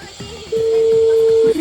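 Mobile phone outgoing call connecting: a single steady electronic tone holds for about a second after a short beep, loud and close, with background voices.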